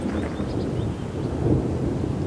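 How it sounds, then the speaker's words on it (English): A low, steady rumble of thunder rolls on without a break, with no voices. "there's been lots of thunder"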